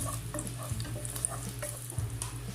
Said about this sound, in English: Adding 6 to 7 cashews, saute for 30 seconds.